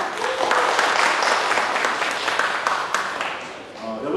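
A church congregation applauds during Sunday worship: a broad wash of steady clapping from many hands that holds for a few seconds and then thins as it fades.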